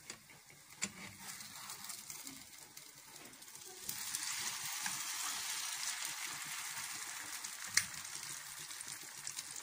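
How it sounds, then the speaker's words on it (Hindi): Aloo paratha frying in a pan on its second side, a steady soft sizzle that grows denser partway through, with a few small sharp ticks and pops. "दूसरी साइड को भी हम फ्राई कर रहे हैं।"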